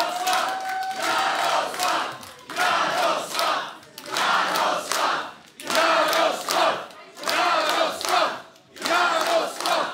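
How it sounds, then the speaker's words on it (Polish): A crowd at a Polish political rally greeting Jarosław Kaczyński breaks into repeated waves of rhythmic clapping and chanting, loud bursts roughly every second or two separated by brief dips. "Ogromne brawa!"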